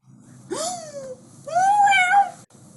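A cat lets out two distinct meows, the second longer and more drawn out, close and clear against a faint background hum.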